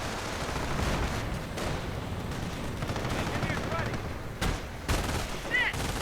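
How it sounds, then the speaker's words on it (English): A Panzer VI tank fires its gun in a video game, with sharp gunfire bursts and explosions. A heavy blast hits near the end over steady battle noise, with commentary running underneath. "Panzer VI firing."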